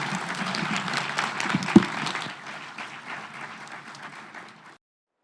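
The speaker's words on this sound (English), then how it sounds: "How about a round of applause for our panel?" Audience applause for a symposium panel, a dense burst of many hands clapping at moderate distance that gradually thins and fades out, with no talk.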